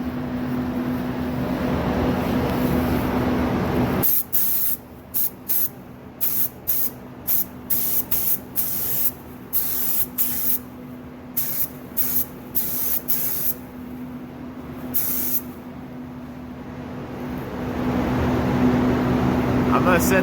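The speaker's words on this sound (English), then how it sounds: "I'm gonna start spraying here in a second." A spray gun hisses primer onto a Ford SVT car door jamb in repeated short bursts, close and loud, pausing between passes, with a steady low hum of a compressor before and after.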